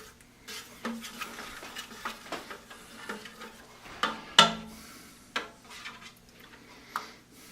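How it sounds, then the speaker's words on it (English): Two dozen eggs stirred in a pan as butter begins to melt, with irregular utensil scrapes and clinks against the pan, a few sharper knocks standing out and a faint sizzle beneath. "See, they're stirring along, starting to cook just a little bit."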